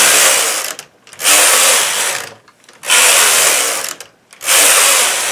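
A knitting machine knitting rows of a teddy bear poncho, its carriage swept back and forth in loud, close whirring passes, each lasting about a second and a half and separated by brief pauses, with no talking.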